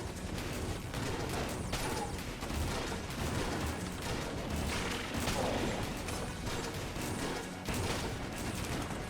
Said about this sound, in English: Just close your eyes and listen to the smooth explosions of the Particulator